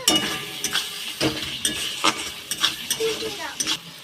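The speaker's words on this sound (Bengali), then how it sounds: "ভালো করে টমেটো আর লবণ দিয়ে ভালো করে এইবার কষিয়ে নেব।" Chopped tomato and salt sautéing in a pan, a steady sizzle broken by repeated scraping stirs of a spoon against the metal, with occasional light clinks, close and moderately loud.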